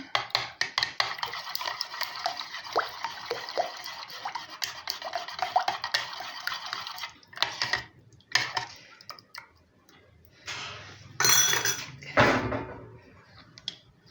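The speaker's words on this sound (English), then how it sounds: "And finally our diluted yogurt. Not all of it because we don't know how it will go. Stir everything." Diluted yogurt being stirred into mandazi batter with eggs in a bowl, giving steady wet scraping and swishing for about seven seconds, then a few scattered knocks and scrapes of the utensil against the bowl.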